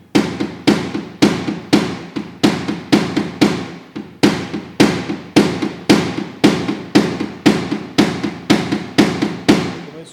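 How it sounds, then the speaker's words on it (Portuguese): A small hammer taps out a dent in a car's side body panel in paintless dent repair, about twenty sharp metallic strikes at a steady, fairly quick rhythm, loud and close with no talking. "Começou a ficar um pouco difícil de abaixar com o martelo, ele está pegando uma área muito grande."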